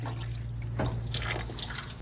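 Water pours into the radiator of a 1960 MG MGA 1600 Roadster, a close, steady gurgling trickle with a low background hum and no talking.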